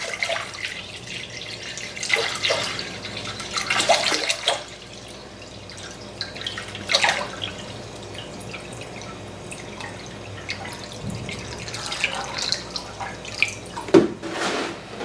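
Water sloshes and drips from a gallon jug into an oval Staub Dutch oven, coming in short uneven splashes and trickles with quiet pauses between them, close by.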